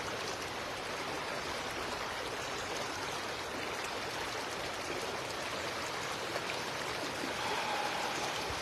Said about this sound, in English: Even listening to the sounds of the river.